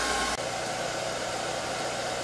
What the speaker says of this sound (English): I have a hair dryer over there, which will be blowing cold air on the coils